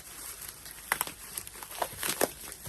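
Paper wrapping torn and crinkled off a package of diamond painting tools, a run of soft rustles with a few sharper rips near the middle and end, close and fairly quiet.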